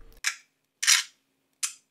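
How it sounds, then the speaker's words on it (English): Three separate simulated shutter sounds from a Fujifilm X-T100's electronic shutter play one after another in near silence, each a crisp, close artificial click or snap, with the middle one longer and fuller than the first and last. "the 3 sound effects available for the electronic shutter"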